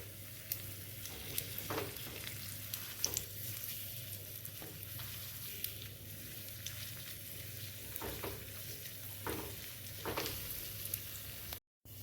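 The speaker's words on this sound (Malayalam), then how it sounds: "നെയ്യിൽ ഈ ഡേറ്റ്സൊക്കെ ഒരുവിധം വിളഞ്ഞിട്ടുണ്ട്" Dates frying in hot ghee for a sweet made from leftover cake, a low steady bubbling sizzle with occasional spoon strokes against the pan, fairly quiet and continuous.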